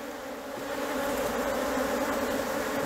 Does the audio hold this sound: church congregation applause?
no